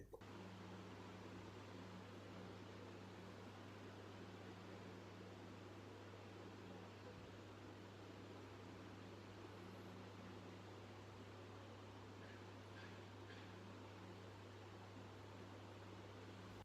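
A BLDC-motor ceiling fan runs quietly with a soft, steady airy hiss and a faint low electrical hum, unchanging throughout.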